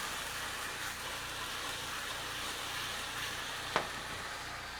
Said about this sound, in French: on va déglacer avec 3-4 cuillères d'eau